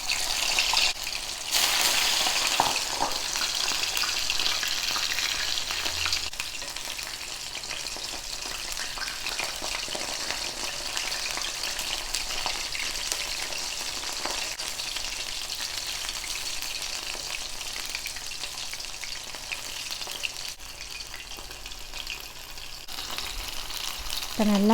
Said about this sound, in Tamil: இதை நம்ம 2வது தடவை டீப் ஃப்ரை பண்ணி எடுத்துக்கலாம்.